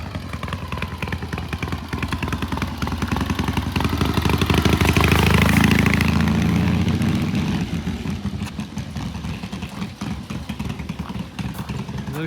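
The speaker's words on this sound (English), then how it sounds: "Those shorty pipes, it sounds a little rough, but basically I think that's the mufflers." A 1978 Triumph T140 motorcycle with short stubby muffler pipes idles nearby, a rough, lumpy rumble that swells briefly as it passes close, then settles back to a steady uneven idle.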